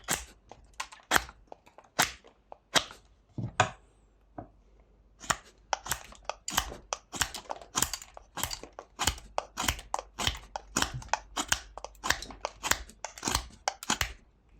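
A knife carving cuts into blocks of aspen and silver birch wood, giving a long run of sharp, crisp clicks and snaps, some close together and some spaced apart, with no talk over them.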